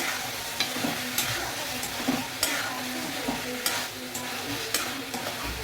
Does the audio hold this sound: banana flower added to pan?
yes